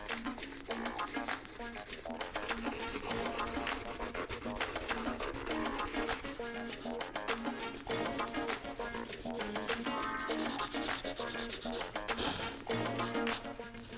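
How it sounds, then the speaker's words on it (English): Sandpaper scrubs steadily over a painted 3D-printed plastic prop of purple filament, taking it down to bare plastic in a dense, continuous rasping that runs for the whole stretch, close and fairly loud, with no talking. "But now we just sand all this down to the plastic."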